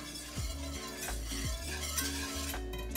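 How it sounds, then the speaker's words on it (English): Frozen garlic being whisked in a hot pan, a steady scraping stir over a low sizzle, with repeated strokes of utensil against metal and no voices. "adding in the garlic and I'm going to start whisking and getting the garlic to thaw out since it's a little frozen"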